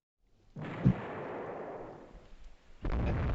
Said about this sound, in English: enemy ship DD hit with a torpedo